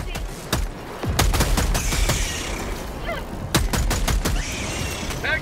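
Helldivers 2 sentry turret unleashes bursts of automatic fire, sharp rattling volleys in two main clusters, fairly close and loud amid battle noise.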